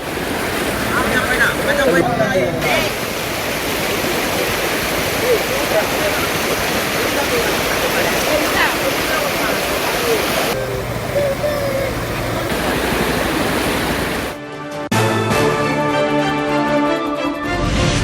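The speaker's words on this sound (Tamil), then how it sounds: "ஸ்ரீபெரும்புதூர் அருகே தரைப்பாலத்தை மூழ்கடித்தவாறு செல்லும் வெள்ளம்." Floodwater rushes over a submerged causeway near Sriperumbudur, a loud, continuous roar of churning water with wind buffeting the microphone throughout, a brief break near the end, and no clear voices.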